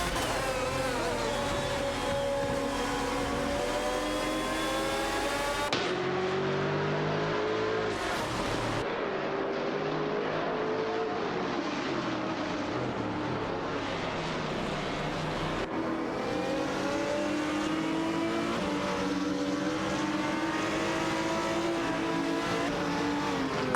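Race cars, a Maserati among them, lapping a track in an AI racing game, engines droning and rising in pitch through gear changes, with continuous loud whine and occasional shifts as cars pass.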